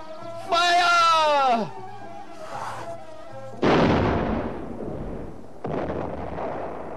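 Cannons fire in an animated historical battle scene: a loud drawn-out shout is followed by two heavy, booming blasts about two seconds apart, each rumbling away slowly.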